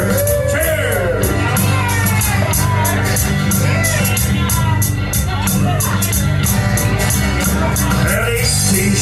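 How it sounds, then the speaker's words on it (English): Loud crowd cheering and shouting for Franny at The Old Grouch's pub in Drumheller, a dense wash of voices and whoops with steady clapping over music that holds throughout. "Let's all cheer real loud, cause Franny is right here."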